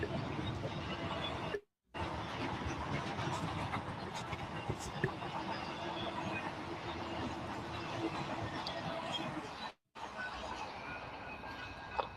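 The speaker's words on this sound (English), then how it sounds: "Maine is an incredible spot to catch eastbound trains climbing the grade" BNSF eastbound freight train climbing the grade on the Southern Transcon near Williams, Arizona: a steady, loud rumble and roar that fills the whole stretch, broken by two brief dropouts.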